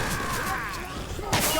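Rapid gunfire in Left 4 Dead 2 on the modded Carnival Motel survival map, fairly quiet bursts of shots and mechanical clatter running under an excited shouting voice, with a sharp louder crack near the end.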